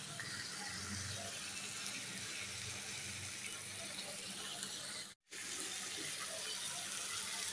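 Water pours steadily from a tap into a cooking pot of spiced sweet pumpkin, a continuous even rush that breaks off briefly near the end and then resumes.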